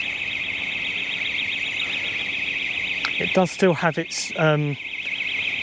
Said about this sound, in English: Burglar alarms.